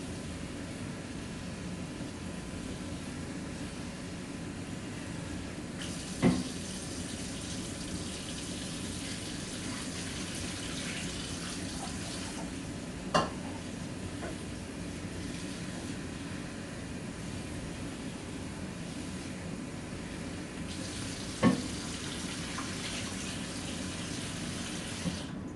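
Tap water runs steadily as a container gets rinsed out, a continuous close rush with three brief knocks spread across it and no talking.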